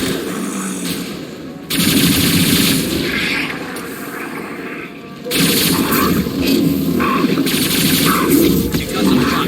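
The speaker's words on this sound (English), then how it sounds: "then gunshots" Combat in Mass Effect 2 Legendary Edition: rapid automatic gunfire and heavy booms come in loud, dense bursts, with a brief drop in intensity before the firing surges back.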